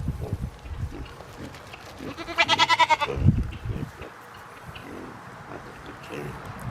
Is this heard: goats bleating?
yes